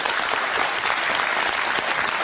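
A television debate studio audience claps in loud, continuous, dense applause throughout, with no pauses.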